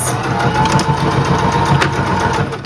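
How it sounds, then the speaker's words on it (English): A sewing machine runs a zigzag stitch, a loud, close, steady mechanical whir with rapid rhythmic ticking that continues without pause. "And then I'm gonna do a zigzag stitch all the way across."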